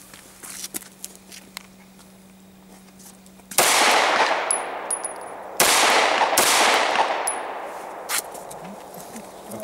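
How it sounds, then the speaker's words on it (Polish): Gunshots at a shooting range: after a few quiet seconds, three loud, sharp reports ring out, each followed by a reverberant decay. The second and third shots come close together. "Można strzelać."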